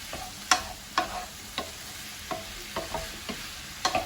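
Scattered scrapes and clacks of a spoon stirring macaroni béchamel ingredients in a pan, about eight distinct strokes over a soft steady sizzle, close and without talk.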